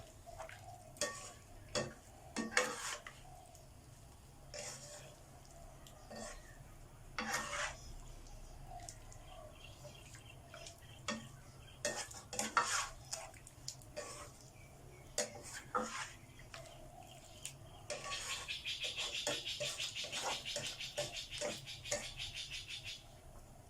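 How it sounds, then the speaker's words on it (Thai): Bean sprouts with congealed blood are stir-fried in a pan without oil, with repeated scraping and clacking spatula strokes over a low sizzle that turns brighter and hissier toward the end. "ผัดให้มันเข้า สีสอกเหลืองๆนวลๆน่าทาน"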